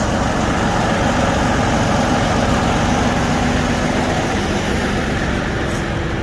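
A heavy diesel engine of a 2015 tractor weighing about 61,000 pounds idles nearby in a constant low rumble and drone, loud and unbroken throughout.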